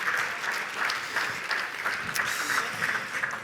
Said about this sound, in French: On peut vous applaudir à nouveau.